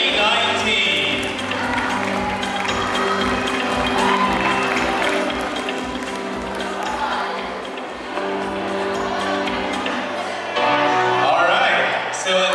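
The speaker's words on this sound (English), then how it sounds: "a warm round of applause for your top 10 for Miss Glamour International" A coronation-night pageant crowd applauds and cheers for the top 10 contestants, steady clapping and shouts running throughout under loud music with a pulsing beat, a voice talking over it at points.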